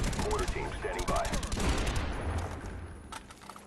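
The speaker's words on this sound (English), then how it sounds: "let's take a listen to the Galil from Black Ops 1, my favorite gun of all time in COD, with the silencer on it" Silenced Galil gunfire in Call of Duty: Black Ops 1, a rapid burst of muffled, sharp shots fired in quick succession and then thinning out, with faint voice-like sounds mixed in early.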